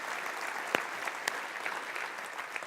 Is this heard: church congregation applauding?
yes